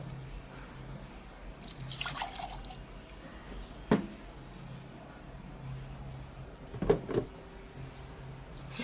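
Water is poured into freshly ground batter in a home kitchen: a brief quiet trickle and splash, followed later by a few sharp knocks and clinks of the container, all faint and with no talking.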